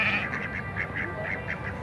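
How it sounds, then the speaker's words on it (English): Several ducks quack in quick, uneven bursts over a steady background hum, moderately close, while being herded by dogs at a chuckwagon race event. "Now she's got 7 ducks"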